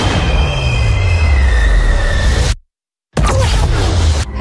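A train rushes past loudly with screeching wheel squeal and a roaring rumble that cuts out abruptly mid-clip before resuming, no talk heard.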